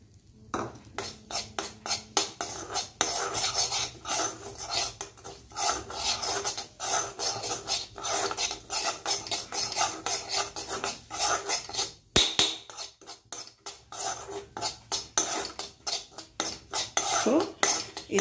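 Bottle gourd fries in ghee in a pan while a metal spoon stirs and scrapes hard and rhythmically against the bottom, a dense run of loud scraping strokes that continues with a brief pause partway through.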